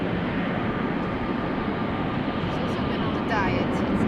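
An Airbus A321neo airliner rumbles past at Amsterdam Schiphol Airport, a loud, broad continuous engine roar filling the whole clip while someone comments over it.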